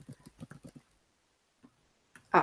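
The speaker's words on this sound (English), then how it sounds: "so I'll just type it in" A password being typed on a computer keyboard: a quick run of about seven soft, close key taps, a pause, one lone tap, then a final louder clack.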